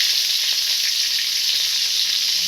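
Tempering ingredients (urad dal, red chilies, curry and coriander leaves, chopped ginger) fry in oil in a tawa, giving a steady, dense, loud sizzle with no talking.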